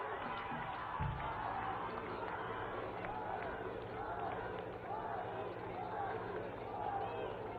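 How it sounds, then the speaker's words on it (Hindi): A crowd of women at a public event applauds loudly to welcome the Prime Minister, a dense, sustained wash of clapping with low, muffled broadcast quality. "हम सब बहनें जोरदार तालियों के साथ माननीय प्रधानमंत्री जी का अभिनंदन करें।"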